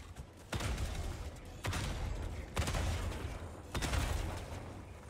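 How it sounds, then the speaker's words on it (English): An autocannon fires in Helldivers 2, four heavy booming shots spaced about a second apart, each with a long rumbling tail, close and loud. "I'm missing all those shots."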